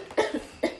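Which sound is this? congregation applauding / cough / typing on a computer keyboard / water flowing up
cough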